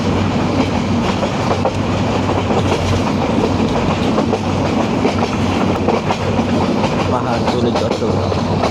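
Passenger train running into Chittagong near Pahartali, a steady loud rumble with continuous clickety-clack of wheels over rail joints, heard from on board with no talk.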